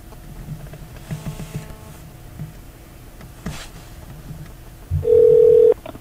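Telephone call tones while trying to reach a caller, with a faint low murmur and scattered small noises, then a loud steady electronic tone near the end.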